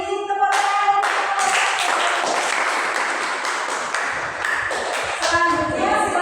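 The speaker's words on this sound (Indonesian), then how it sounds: "Kalau sudah kita beri tepuk tangan." A class applauds a group presentation in a steady wash of clapping for a few seconds, with brief tonal sounds at the start and end.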